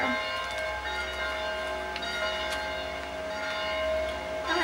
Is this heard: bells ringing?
yes